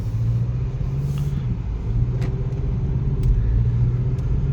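A 2024 Mazda 3 AWD Turbo driving on the road, its engine a steady low rumble with continuous tire and road noise, close and moderately loud, holding an even pace without talk.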